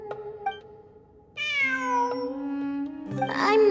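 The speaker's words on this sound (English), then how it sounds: "It really is a cat." A cat in Genshin Impact meows several times, with short faint calls first and then a louder, drawn-out meow near the end, close by over quiet ambience.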